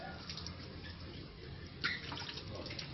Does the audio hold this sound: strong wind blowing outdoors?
no